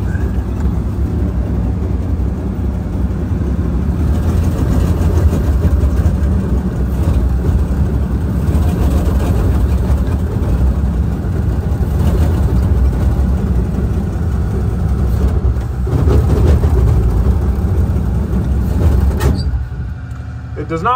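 Engine of a Massey Ferguson 300 tractor, an old barn-find machine, runs loud and close with a heavy low rumble that swells slightly as throttle is given, then drops near the end; speech tags suggest voices mixed in.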